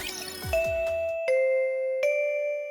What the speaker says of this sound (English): here's the annoying bell